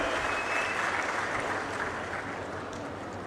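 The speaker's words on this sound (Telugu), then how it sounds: "అందరూ కూడా గట్టిగా చప్పట్లు కొట్టి అభినందనలు వారికి చెప్పాలి" A crowd at a public event in Anakapally applauds sanitation workers, with dense, sustained clapping that holds steady and eases slightly toward the end.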